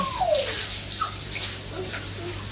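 Water sloshes and splashes during bathing, a continuous close wash of water with brief faint vocal sounds over it.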